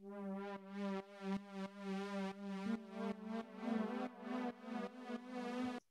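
A plain, bog-standard synthesizer saw patch played dry without effects, a bright buzzing tone in a series of sustained notes with short gaps, changing pitch partway through, heard alone and fairly quiet.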